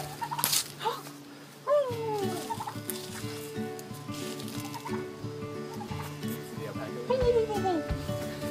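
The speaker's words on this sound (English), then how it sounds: "We got some turkeys." Turkeys on a farm gobble in short, rattling bursts, nearby and fairly clear, amid steady background chatter and people talking.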